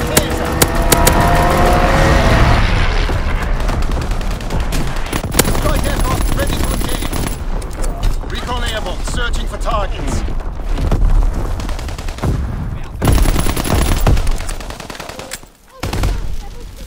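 Strafing gunfire from a fighter plane in a World War II shooter, Call of Duty: WWII, on the Shipment map; dense continuous bursts of automatic fire and booms run throughout, loud and busy, with game radio voices underneath.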